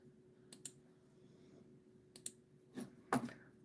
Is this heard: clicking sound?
yes